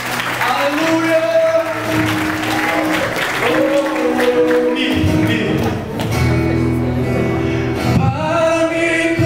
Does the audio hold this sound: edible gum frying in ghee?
no